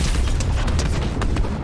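A tank explodes in the Fortnite video game with a loud, rumbling blast that keeps booming and crackling in dense, overlapping bursts throughout the short stretch.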